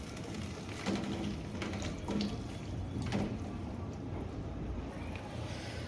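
Water is poured into chilli mushroom sauce in a pan and stirred in, giving a continuous watery swish with a few brief stronger splashes and clinks, fairly close and moderately loud, with no talking.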